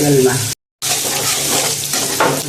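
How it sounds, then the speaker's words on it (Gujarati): Onion and potato pieces fry in hot oil in a pan, giving a loud, continuous close-up sizzle with stirring noise, interrupted by a short silent gap near the start. "2 મિનિટ ફ્રાય કરી લઈશું અને તેલમાં"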